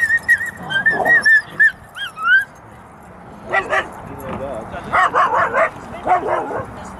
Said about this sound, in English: Oh, listen to that bark.